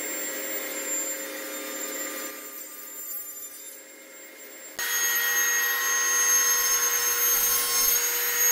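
A power saw runs steadily as it cuts wood for a table, a loud, continuous whine that dips slightly midway and then resumes at full strength, with no talking.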